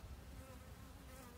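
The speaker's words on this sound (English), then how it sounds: "Bees are just pouring in" Honey bees fly around a hive entrance, a dense, continuous buzzing drone close by and fairly faint, with no voices.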